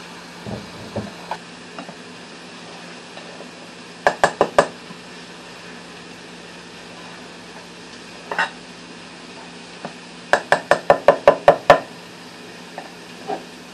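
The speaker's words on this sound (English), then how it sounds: "I'm gonna flip these pork chops real quick" Pork chops flipped in a pan, with sharp clusters of metallic knocks and scrapes of the utensil against the pan over a faint, steady background sizzle and no talk.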